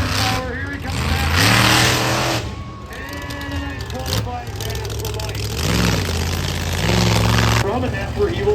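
A monster truck's big-horsepower engine roars loudly through a corner of an arena track at a Monster X Tour show in Granite City, Illinois, revving up and down in sustained waves close by, with an announcer talking over it.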